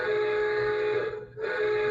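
A Lionel starter set toy train whistle blows a steady, bright multi-tone note, briefly dipping and cutting out near the end before resuming.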